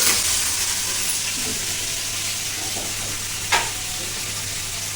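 Ridge gourd and tomatoes cook in a pan with tamarind and salt, making a bright continuous sizzle close by, with a few soft stirring scrapes and one sharper clink near the end, no voices.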